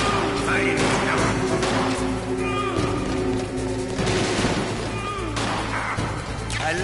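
Metal Gear Solid gunfire crackles in rapid bursts and scattered single shots over a busy, loud battle mix, with a voice talking through part of it.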